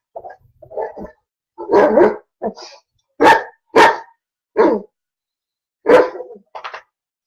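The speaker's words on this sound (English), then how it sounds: "So we're gonna have to put up with this barking." A dog that wants to play barks loudly and close by in a room, a series of sharp separate barks with short gaps, some higher whiny yelps among them, and no one talking.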